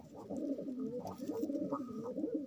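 Close, soft cooing of pigeons on a pigeon farm, low throaty warbles repeating in a steady murmur with no other sounds.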